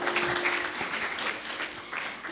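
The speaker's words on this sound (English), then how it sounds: "a round of applause for Dr." A conference audience at a plenary session applauds a speaker, steady dense clapping that carries evenly throughout, fairly distant and soft.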